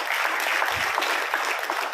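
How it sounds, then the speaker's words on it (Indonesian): Brief burst of audience clapping at a company success-story event honoring Mr. Ainul Yakin, steady and moderately loud for the whole moment. "Tepuk tangan untuk Bapak Ainul Yakin."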